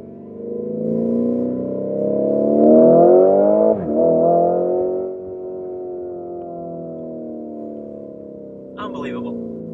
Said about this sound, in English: Oh, you can just hear the rumble in the engine and the exhaust.